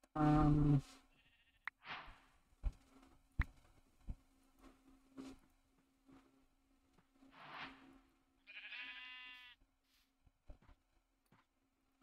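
Sheep in Minecraft bleat several times at moderate loudness, with short game clicks and taps between the calls.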